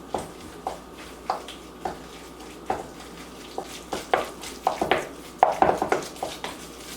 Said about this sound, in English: Go ahead and mix the ground lamb up.